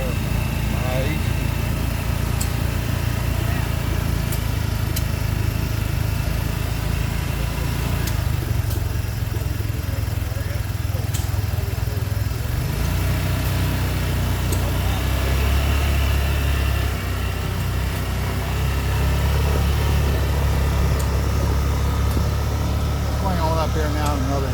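Old engines and tractors running at a tractor and engine show in Portland, a continuous loud mechanical drone with low rumbling and a steady idling chug, outdoors with people talking in the background throughout.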